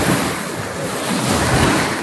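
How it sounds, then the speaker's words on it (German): Waves break against a rocky shore at Cape Rodon on the Albanian coast, a steady loud wash of surf mixed with gusting wind buffeting the microphone, continuous with no voices. "Steine und Wellen, die das Ganze nicht gerade einfacher machen."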